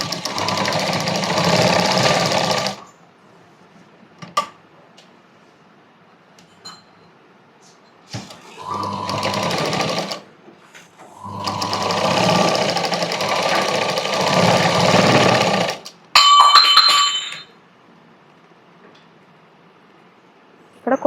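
Sewing machine stitching fabric for a small child's frock, running in three long loud bursts with quiet pauses and a short final run, close by.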